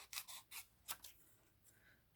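Scissors snipping through paper while a scrapbook journal page is being made, a few quick, soft cuts clustered close together, then quieter handling.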